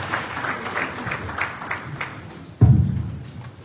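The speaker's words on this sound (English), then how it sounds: "So let's give her a round of applause." A round of applause from the audience at a Ministry of Finance event on the national development plan: steady, moderately close clapping for about two and a half seconds, then a sudden thud and a voice as it dies away.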